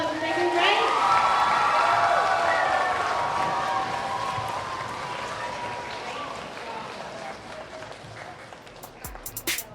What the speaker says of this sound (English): let's give first and second grade another big round of applause